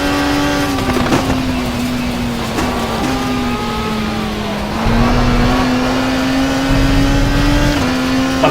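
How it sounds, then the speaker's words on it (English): BMW race car engine in the WTCC racing game, a loud, continuous droning whine that rises and dips with gear changes. "Funny sounding BMW."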